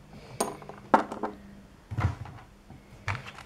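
Pieces of a porcelain tea set from a red basket, including a sugar bowl and its small lid, clink and knock together in four or five separate light taps spread over a few seconds.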